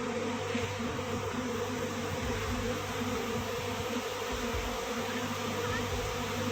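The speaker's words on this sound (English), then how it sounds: "A normal day at the honeybee farms." Honeybees swarm at a honeybee farm, producing a dense, continuous buzzing drone that stays loud and close for the whole stretch without any voices.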